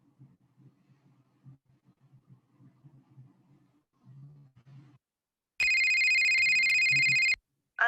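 A telephone rings loudly for about two seconds after a stretch of low, muffled rumbling, then cuts off abruptly.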